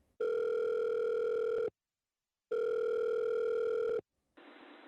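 A telephone rings twice in the earpiece as a call to the police is placed, two long steady tones of about a second and a half each separated by silence, followed by a brief hiss as the line connects.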